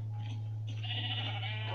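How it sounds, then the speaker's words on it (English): A single soft sheep bleat from Minecraft gameplay, faint and wavering over a steady low electrical hum, with no talking. "There's another sheep right there."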